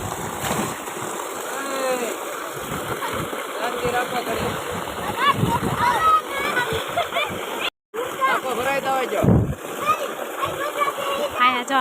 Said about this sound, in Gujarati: બધા પાણીમાં તરે છે જો અમારે બધા છોકરાને પાણીમાં તરતા આવડે